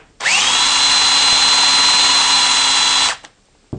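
A salvaged electric motor spins up at around 1200 RPM, starting with a rising whine, then holding a loud steady high-pitched hum for about three seconds before cutting off and winding down, followed by a faint knock.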